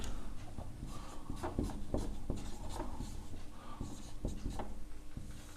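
A pen scratches steadily across paper during a class 9 maths lesson, producing a close, continuous scraping rub with small strokes and taps and no talking.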